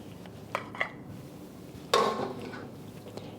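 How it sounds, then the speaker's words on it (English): A utensil stirs beef and onion stir fry with sesame oil in a pan, giving a few light clinks and then a louder scraping clatter against the metal, close by, with no talking. "Give it a stir"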